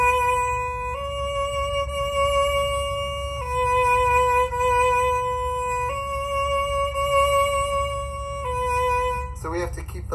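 Bowed string instrument playing slurred pairs of notes with vibrato, the vibrato halting on the first note of each pair, clear sustained tones stepping up and down over a low background hum.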